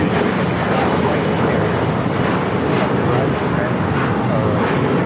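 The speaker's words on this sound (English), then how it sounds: "Air China, the 777 making that final turn, heading into Tom Bradley." An Air China Boeing 777 on final approach into LAX gives a steady, rushing roar of engines that stays constant and fairly loud, with some wind buffeting on the microphone.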